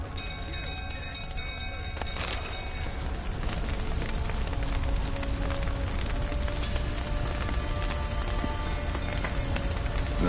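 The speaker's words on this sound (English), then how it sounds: "Looks like rain." Steady rain in the video game The Witcher 3: Wild Hunt patters and hisses over a constant outdoor wash, with scattered drops and faint rumbling throughout.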